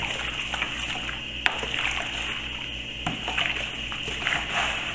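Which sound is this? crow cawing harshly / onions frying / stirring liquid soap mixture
stirring liquid soap mixture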